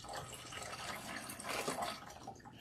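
Water runs steadily over natural hair as shampoo from a shampoo bar is rinsed out, a soft continuous splashing and trickling hiss with no voices.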